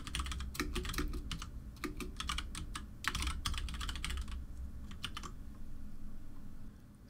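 Rapid clicking keystrokes on a computer keyboard come in quick clusters and short pauses, quiet and close, over a low steady hum, with no talking.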